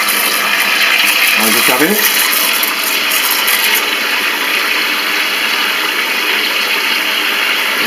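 A shower head sprays water into a bucket with a steady, loud hiss throughout, while a person briefly speaks near the start.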